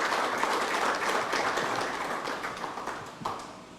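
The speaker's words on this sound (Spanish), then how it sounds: "yo le voy a pedir a todos ustedes un fuerte aplauso" An indoor audience at a book presentation breaks into sustained applause, a dense clapping that fades gradually over a few seconds.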